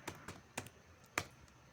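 Light taps on a computer keyboard as text is typed, a handful of faint, irregular keystrokes over a quiet background.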